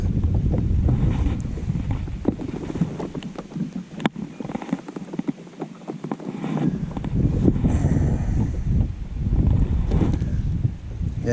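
Strong wind buffets the microphone while fishing from a boat on a muddy lake, a loud, continuous rumbling roar with gusts and faint water movement throughout.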